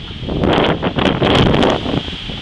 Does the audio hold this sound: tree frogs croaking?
no